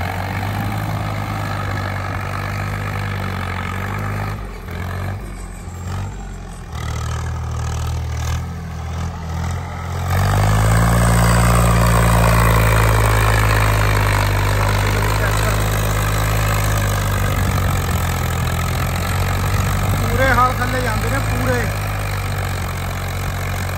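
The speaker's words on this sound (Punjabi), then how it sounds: "ਲਓ ਜੀ ਚੈੱਕ ਕਰੋ ਟਰੈਕਟਰ ਦੀ ਜ਼ੋਰ, ਚੈੱਕ ਕਰੋ ਇੰਜਣ ਦਾ ਕਲੋਸ ਕਰਦਾ ਜੀ" An Agriking 2055 four-wheel-drive tractor engine works hard while pulling a plough in a field. Its loud, close, continuous diesel rumble swells in intensity partway through, and faint voices sit beneath it.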